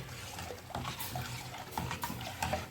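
Water poured into a pan of ground meat cooking for pasta béchamel, a faint, uneven splashing and sizzling trickle lasting a few seconds.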